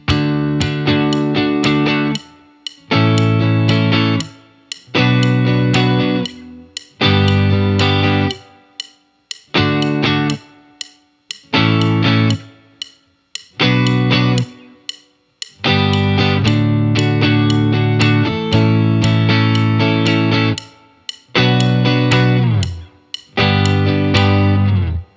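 Distorted electric guitar chords strummed in sustained blocks separated by short silent gaps, each entry arriving slightly late, loud and close with no talking.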